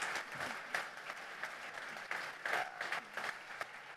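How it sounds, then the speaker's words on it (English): Audience applause at a keynote, a moderately quiet bed of scattered clapping with a few sharper individual claps standing out, heard from some distance. "I think that's worth an applause"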